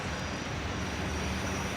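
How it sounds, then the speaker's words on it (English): A police helicopter hovers overhead during a perimeter search, a constant broad droning roar with no voices. "We got the helicopter in right over here."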